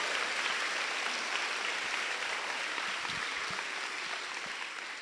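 A church congregation applauds loudly during a Spanish-language sermon, a dense, steady wash of clapping that holds for several seconds and eases off slightly toward the end.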